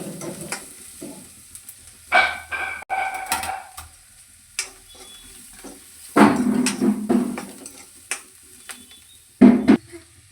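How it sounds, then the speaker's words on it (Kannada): Carrots stirred and frying in a pan with onions, with intermittent bursts of sizzling and scraping as a spoon moves the vegetables, separated by quieter pauses; no talking. "ಸೊ ಕ್ಯಾರೆಟ್ ಹಾಕೊಂಡ್ರೆ ಇದೊಂದು ಸ್ವಲ್ಪ 2 ನಿಮಿಷ ಫ್ರೈ ಮಾಡ್ಕೊಳ್ತೀನಿ"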